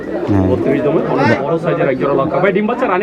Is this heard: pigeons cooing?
yes